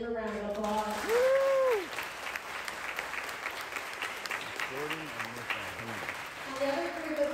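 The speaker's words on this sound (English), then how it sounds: "Let's give them a round of applause." Applause from an elementary school ceremony audience for the teachers, a steady crowd clapping throughout with shouts and cheering voices rising over it near and far.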